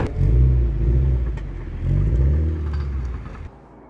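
A Toyota GT86 pulls away on a race track, its engine rumbling up through two rising surges before the sound drops away as it leaves.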